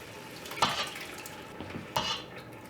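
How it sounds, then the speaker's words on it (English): Tomato sauce, diced tomatoes, tomato paste, honey, onion, garlic and seasonings being stirred in a pot for gluten-free lasagna, with a couple of sharp utensil clinks against the metal and soft wet scraping in between. "give all of this a really good stir until it's really combined"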